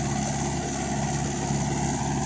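Steady, close engine drone from a Mahindra 575 XP Plus tractor working a 7-foot rotavator, an unbroken low rumble with no voices.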